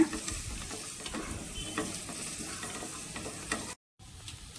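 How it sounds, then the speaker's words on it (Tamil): Chopped big onions and small shallots sautéing in a pan, a steady low sizzle with scraping stirs throughout, cut by a brief silent gap near the end. "கட் பண்ணி வச்சுருக்க பெரிய வெங்காயத்தை சேர்த்துக்கிறோம் ஒரு ஆறு ஏழு சின்ன வெங்காயத்தையும் சேர்த்துக்கிறோம் நல்லா வதக்கிக்கலாங்க"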